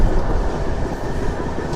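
A Tirupati to Puducherry MEMU express runs on a curve of a single line, a loud, steady on-board rumble with dense rattling wheel noise and no voices.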